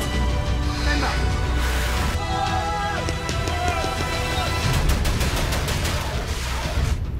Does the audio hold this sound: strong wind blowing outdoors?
no